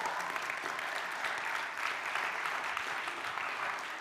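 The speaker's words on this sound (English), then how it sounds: "Give yourself a hand clap." A youth summit audience claps for itself, a continuous even wash of many hands applauding from across a large room, steady and moderately distant for several seconds.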